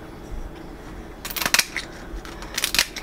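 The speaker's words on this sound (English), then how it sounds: "Just take your kitchen scissors" Close, crisp snips from kitchen scissors cutting through seafood shell, in two short clusters of crunchy cuts with quiet in between.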